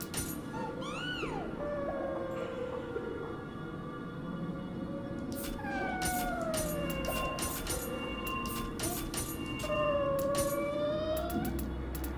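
Cats meow in a video game, several drawn-out wavering cries rising and falling, some close and loud, over a continuous background din with sharp clicks scattered through the second half.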